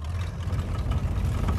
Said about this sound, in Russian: Мотор слышно вообще свирепо, лучше, чем меня, я думаю.